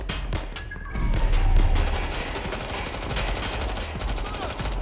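Gunfire in Watch Dogs Legion, rapid bursts of automatic weapon fire and scattered shots crackling in dense succession over a busy game background.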